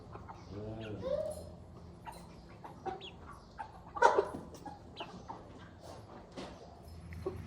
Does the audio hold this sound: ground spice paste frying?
no